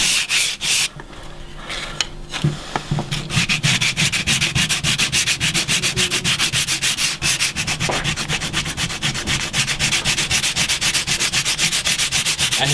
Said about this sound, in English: And he's using a very coarse sandpaper, maybe a number 100 or something like that. 80. It's actually a number 80.